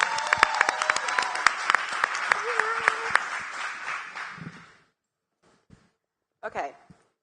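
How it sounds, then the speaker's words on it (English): An audience claps loudly for a woman presenter at a product pitch night in Tulsa. The dense, steady applause runs for about four seconds and then cuts off, leaving brief faint sounds near the end. "Let's give her a warm round of applause."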